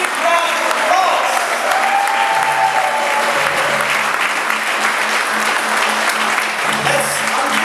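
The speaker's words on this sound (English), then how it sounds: "And Viola, a big round of applause." Stage audience at a magic show giving a big round of applause for the assistant Viola, steady loud clapping throughout while a host talks over it.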